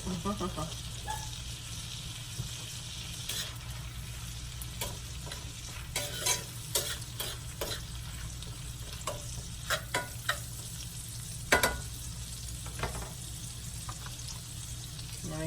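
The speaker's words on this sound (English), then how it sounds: "Y'all hear that sizzle?" Food sizzles steadily in a hot pan while making breakfast tortillas, a continuous crackling hiss broken by occasional scrapes and clinks of a utensil stirring.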